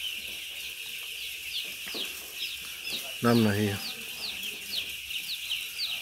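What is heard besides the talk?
chicks in a poultry house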